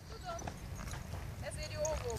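Horse hooves clip-clop at a steady walking pace, moderately close, while people talk quietly over them.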